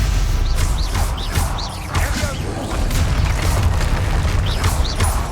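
Hogwarts Legacy spell combat with Confringo and Incendio blasts: repeated fiery whooshes and booming impacts, loud and close, in a busy continuous barrage.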